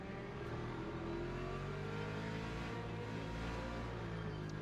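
A Ford Mustang GT3 engine revs in the Le Mans Ultimate racing game at Spa-Francorchamps, a continuous, moderately quiet drone whose pitch slowly rises and falls, with no voices.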